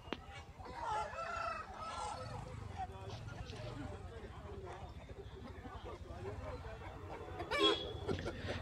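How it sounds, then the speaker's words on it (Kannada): Native country chickens and fighter roosters cluck and crow at a busy livestock market in Chikka Tirupathi, Bangalore. The birds are close and fairly loud, with people talking nearby throughout. "ನೋಡಿ ಇಲ್ಲೆಲ್ಲ ನಾಟಿ ಕೋಳಿ ಇದೆ"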